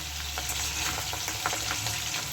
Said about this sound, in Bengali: আস্তে আস্তে করে এগুলো উল্টে দেবো কিন্তু আমি একদম বেশি ভাজবো না